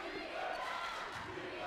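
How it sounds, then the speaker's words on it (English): Crowd cheering and shouting in an arena during a women's college basketball championship game, a dense steady roar of many voices with a commentator talking over it. "crowd getting into it"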